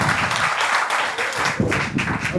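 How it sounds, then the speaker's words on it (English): An opening ceremony audience applauds in a sustained, moderately loud round of clapping that swells slightly in waves, with no speech over it. "give one more round of applause to Henry and his family"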